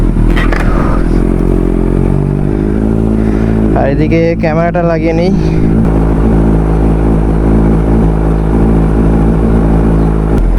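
A Yamaha R15 motorcycle starts from cold and settles into a steady, loud idle that drones on throughout, while someone speaks briefly over the engine near the start.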